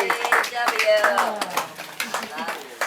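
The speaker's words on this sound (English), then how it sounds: "So you can all applaud right now for me talking." People at a celebration-of-life gathering clap and cheer: scattered hand claps rise under excited voices and happy exclamations, fairly close and lively, with talking and shouting dominating the mix.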